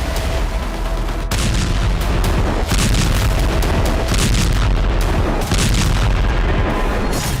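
The DRDO AD-1 interceptor missile roars during its test launch, a loud, continuous, broadband rumble with heavy low booming that persists for several seconds.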